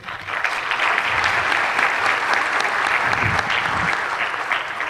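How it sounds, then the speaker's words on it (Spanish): An academic audience applauds at the close of a network presentation, dense steady clapping from a roomful of people lasting several seconds without speech. "Un aplauso, por favor"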